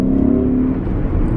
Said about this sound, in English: that's the second gear downshift